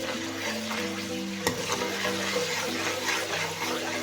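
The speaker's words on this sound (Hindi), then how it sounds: "2 टेबलस्पून लहसुन अदरक का पेस्ट शामिल करेंगे और दरमियानी आंच पर फ्राई करेंगे।" Garlic ginger paste frying over medium heat in a karahi for chicken feet, a steady close sizzle with spoon stirring and one sharp clink, no talking.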